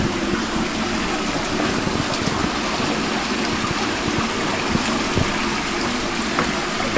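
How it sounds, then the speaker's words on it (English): Water gushes out of the turbine at Chase's Mill in a steady, dense rush, close and loud without letup, a broad churning flow with faint knocks underneath. "So you'll see water coming out of that turbine, and you'll see the vertical shaft spinning."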